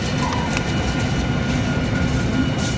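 A BNSF eastbound loaded coal train rolls steadily past, with its rear DPU locomotive going by close and loud. There is a continuous rumble of wheels and wagons and no voices.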